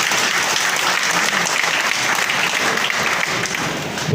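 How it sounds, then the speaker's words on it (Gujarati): Loud, dense audience applause at a district police felicitation and farewell ceremony, steady clapping from a large crowd that fills the whole stretch without a break. "જોરદાર તાળીઓના ગણગણાટથી આપણે વધાવીએ"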